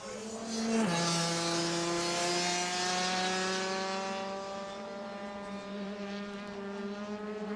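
Rotax DD2 Masters racing karts drive through a carousel corner at a U.S. Grand Nationals race, engines loudly droning and shifting pitch as they sweep past, with no talk over them.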